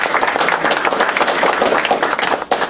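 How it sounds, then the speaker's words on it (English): Close, lively clapping from an audience applauding Daryl at a psychology department anniversary event, brisk and continuous for a couple of seconds with a brief dip near the end. "So just like give him a round of applause."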